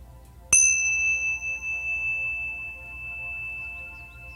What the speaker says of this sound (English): if you hear the sound of the bell,